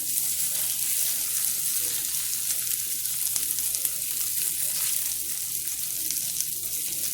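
Food frying and sizzling in a pan, a steady, even hiss that runs unbroken throughout at moderate volume with no talking.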